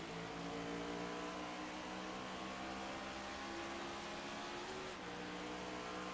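Racing video game car accelerating through the gears in a Las Vegas league race, a steady loud engine drone with harmonic tones rising through each shift, continuous throughout with no voices over it.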